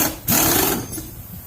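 A pneumatic impact wrench works on a bolt of a Vulcan 1500 motorcycle in a shop, a loud buzzing hammering burst lasting about half a second, then fading to quieter shop noise.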